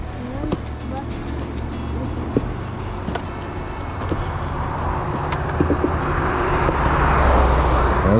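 Cars speed past on a road near the Damascus stretch of the Appalachian Trail, giving a continuous roadway roar that swells louder toward the end, with birds cooing and calling over the traffic.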